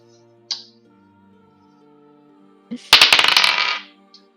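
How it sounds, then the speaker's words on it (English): Dice clatter across a table during a tabletop role-playing session, a quick burst of rapid clicking rattles that settles within about a second, heard alone after a faint earlier tap. "I hear the dice rolling."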